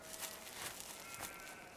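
Sheep bleating in a Farming Simulator 2015 field flock, a short continuous cluster of overlapping bleats at moderate level with no talk.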